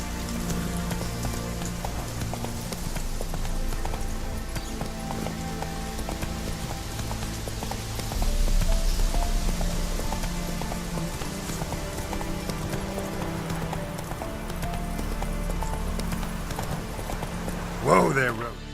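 The horse Roach gallops along in The Witcher 3 video game, steady rhythmic hoofbeats clip-clopping close by over a rain-like ambient wash, with a brief louder scuffle near the end.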